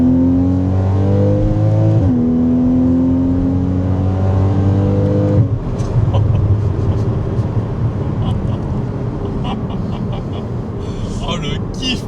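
A Porsche 981 Cayman engine drones steadily, its pitch dipping and rising as the car is driven through a corner, then gives way to rushing road and wind noise, heard from inside the cabin with voices talking over it.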